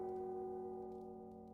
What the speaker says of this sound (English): Listen, when I strike it, it's like the tolling of a bell.